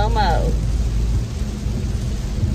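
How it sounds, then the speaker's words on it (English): Heavy rain pours steadily in Houston with a low rumble of thunder beneath it, loud and continuous throughout, with a brief voice at the very start. "I'm tired of this rain."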